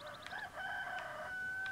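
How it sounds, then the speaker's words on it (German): A rooster crows in the video game Dark Cloud, a clear, rising and falling call heard close and fairly loud against a quiet background, with no talk. "Kann mal einer diesen doofen Hahn abstellen?"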